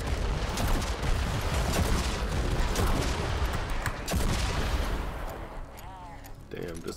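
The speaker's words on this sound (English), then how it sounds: "Damn, this disintegrator is a beast." The disintegrator weapon in Fortnite Save the World fires in a dense, loud, continuous burst of rapid blasts, then fades out near the end into quieter game sounds.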